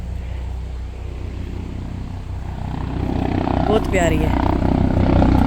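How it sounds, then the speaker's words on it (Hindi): A helicopter flies overhead, its low rotor thrum building steadily louder across the clip while someone talks over it. "आज ऊपर हेलीकॉप्टर को पता नहीं क्या होया हुआ है"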